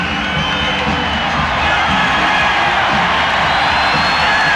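A packed basketball arena crowd roars and cheers during Houston's start against Phoenix in Game 5 of the 1994 Western Conference semifinals, a loud continuous wash of cheering and whoops that swells slightly and holds throughout.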